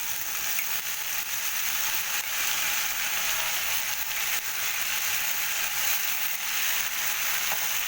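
A spice paste of ground coriander, cumin and turmeric hits a hot pan, giving a loud, steady, close sizzle that holds without a break.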